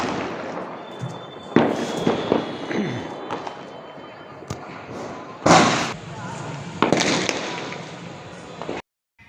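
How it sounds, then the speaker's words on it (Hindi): Diwali firecrackers bursting on a road trip near Sitapur on Bhai Dooj, with several loud pops and thumps, some sharp and near, others dull and distant, set against steady traffic noise and a brief voice. "और कहीं कहीं पटाखों की आवाज़ें भी आ रही हैं।"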